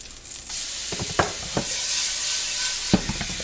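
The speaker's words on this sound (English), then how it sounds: "with the hot oil, again, I like to add a little garlic" Garlic sizzling in hot oil: a loud, bright, steady hiss of frying close up, punctuated by a few sharp taps of a utensil against the pan.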